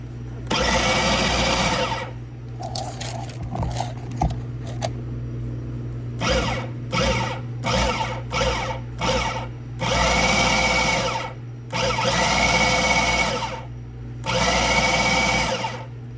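A food processor pulses flour and butter in repeated motor bursts, some long and steady, others short and rapid, loud and close with a constant low hum underneath.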